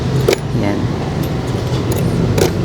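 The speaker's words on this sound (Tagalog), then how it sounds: "Ito yung kanyang susi." Keys for a Yamaha Aerox V3 SP scooter jangle in a few short metallic clinks near a roadway, with traffic hum and a voice speaking nearby.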